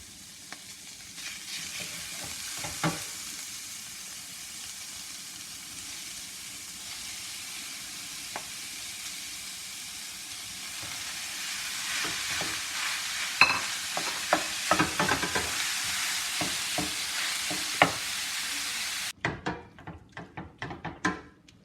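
Beef added to a pan of frying onions and seasoning for meat pie filling, a steady sizzle that grows louder as it is stirred, with clacks and scrapes of the spoon and a few thumps toward the end.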